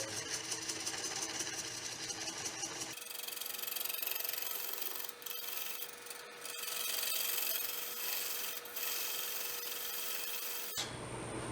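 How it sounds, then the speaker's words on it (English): A lathe tool cuts a tenon on a cottonwood bowl blank, producing a steady close scraping and rubbing hum that briefly drops in intensity, then continues before a shift near the end. "I'm always cutting a straight side to my tenons when they're on this larger size."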